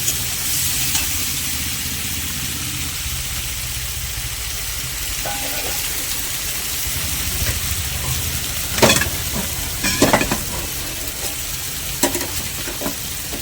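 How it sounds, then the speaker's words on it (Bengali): Crab coated in turmeric fries in hot oil, giving a steady broadband sizzle throughout, with occasional sharp clinks and scrapes of stirring toward the end. "তার মধ্যে তেল গরম হয়ে গেছে, কাঁকড়াটা দিয়ে দিয়েছি আর আমি হলুদ মাখিয়ে রেখে দিয়েছিলাম।"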